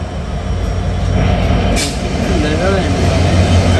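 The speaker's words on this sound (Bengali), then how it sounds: "ট্রেন আসছে এখানে ক্রসিং হয়েছে" A train arriving at a railway crossing in rural Bangladesh, a steady loud rumble of wheels and engine running throughout, with a brief bright horn-like burst midway and people talking over it.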